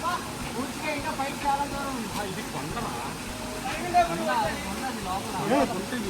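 The Kondapalli hidden waterfall, about fifteen feet high, rushes in a steady broadband roar, with people talking throughout over it.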